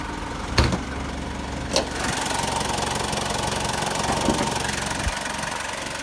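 Car engine idling in the open engine bay, a steady mid-pitched hum heard close up and fairly loud, broken by a couple of brief knocks or clunks near the start, with no voices.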